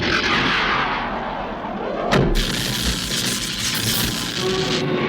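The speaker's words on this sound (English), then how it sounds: "if I fire one from my particle beam gun and my aim isn't too crummy" A particle beam gun fires once in a sharp burst from a Transformers cartoon, cutting through a dense bed of background action noise with no dialogue.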